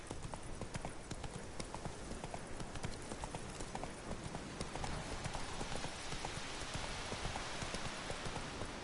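The horse Roach's hooves clip-clop steadily in The Witcher 3, a brisk continuous rhythm of close hoofbeats over a dense wet background that sounds like rain.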